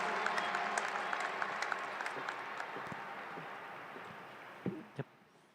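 Audience applause at a Peoria High School 2021 graduation ceremony, a steady wash of many hands clapping that gradually fades, ending with a couple of louder nearby thumps.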